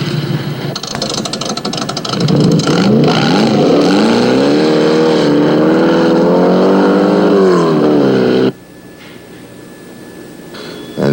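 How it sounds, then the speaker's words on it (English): A high-powered Corvette and a Porsche race car roar loudly at close range in a dawn race, engine pitch climbing and sustained in a strained rev before abruptly dropping away to quieter background noise. "The race is a dogfight between a high-powered Corvette and a very well put-together Porsche."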